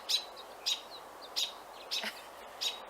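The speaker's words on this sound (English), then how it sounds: "the birds are singing. They're up on the roof." Birds chirp from a rooftop in five short, evenly spaced bursts of bright tweets. The calls sound moderately distant over a quiet background hiss, with no voices.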